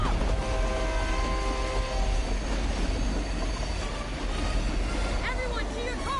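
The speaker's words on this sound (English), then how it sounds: "How are we supposed to catch a speeding train?" A speeding train rushes along rails in the Fast and Furious Krossroads game, a loud continuous rumbling roar with metallic squeals and whines throughout, heard close and dense.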